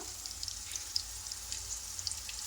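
A ground paste of tomato, onion, cashew, coconut, poppy seeds and ginger sizzles in oil for a lotus seed curry, a soft, close crackle with scattered small pops and no voices.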